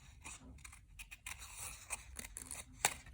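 Scissors snip through paper while shapes such as wiggly lines, triangles and a circle are cut out, giving a run of close, crisp blade closures with short pauses between cuts.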